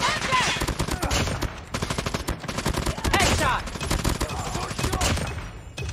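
Gunfire in a Call of Duty match comes as dense, rapid automatic bursts that carry on almost without a break, loud and close, with game sounds layered around them.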